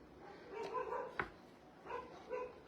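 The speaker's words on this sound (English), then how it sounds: "the dog's barking through the fence at the neighbor" A neighbour's dog barks through a backyard fence, a few separate distant barks spaced across the moment, faint and alone.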